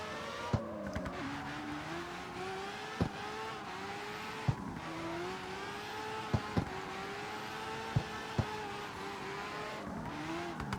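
A Mazda RX-7 drift car in CarX Street howls through sustained revs with gear-shift dips and sharp popping transients, engine tone rising and falling continuously as it slides, loud and close with no talk.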